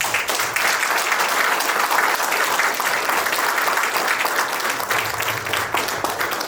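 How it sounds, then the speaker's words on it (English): A corporate leadership event audience gives a huge round of applause for businessman Harsh Mariwala, a dense, sustained crowd clapping that stays loud and even from start to finish. "Friends, please join me in thanking Mr. Harsh Mariwala with a huge round of applause."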